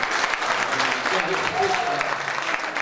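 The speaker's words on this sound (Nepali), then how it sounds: "ताली बजाएर" A church congregation at a Nepali service in Bangalore applauds with steady, dense clapping that lasts throughout, with a voice speaking over it.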